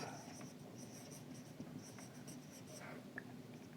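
Scratchy strokes of writing on a board during an engineering lecture on cantilever beam support reactions, continuous short marks and taps close by, with faint murmuring in the background.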